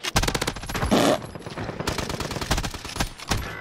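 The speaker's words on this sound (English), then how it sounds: "You know how we rock with this LMG, my boy?" A light machine gun in Call of Duty: Warzone fires long, rapid, rhythmic bursts, loud and close, with a brief pause partway before the sustained fire resumes.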